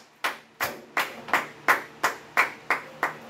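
A church congregation claps together in a steady, even rhythm, about nine sharp claps in a row, moderately close and with no voices over them.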